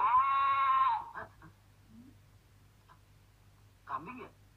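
A goat bleats loudly once in a long wavering cry, followed by quieter rustling and a shorter second bleat.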